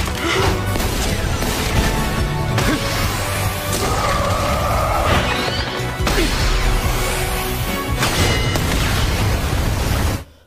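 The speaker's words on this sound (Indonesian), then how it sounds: "smash maut ala Taufik Hidayat dia lepaskan dan membuat suster ngepot hancur berantakan" Several loud crashing impacts and whooshing hits from an anime magic fight in Mashle land in bursts spread across the stretch, each a broadband smash ending with a sudden cutoff.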